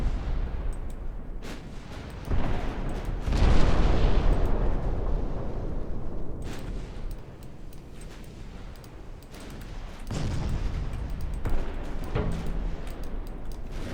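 Naval gunfire in the warship game Ultimate Admiral Dreadnoughts, including 5-inch guns against a battleship: continuous heavy booming with rolling blasts and rumbling explosions, loud and dense with no clear gaps.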